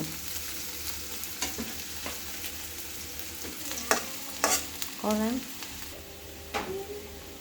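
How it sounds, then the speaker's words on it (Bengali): Chopped onion and garlic fry in a pan for a prawn and taro-leaf curry, a steady close sizzle broken by repeated scrapes and clinks of stirring, with a voice briefly heard. "এবার পেঁয়াজ রসুন কুচি ভালো করে ভেজে নেব"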